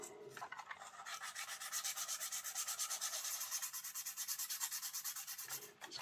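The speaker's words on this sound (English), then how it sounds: "Into a finer grade sandpaper." Fine-grade sandpaper rubbed on a Hornby Class 110 DMU model train body, heard as quick, even back-and-forth rasping strokes, close and fairly quiet, with a brief pause near the end.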